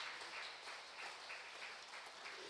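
A church congregation applauds steadily, a faint, even wash of clapping with a soft pulsing rhythm and no voices.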